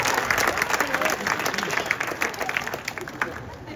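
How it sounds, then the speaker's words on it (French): An outdoor crowd at a street artists' festival in Vevey, Switzerland, clapping continuously for a street performance, dense applause heard at moderate distance throughout. "quand t'auras mis, tout le monde va applaudir."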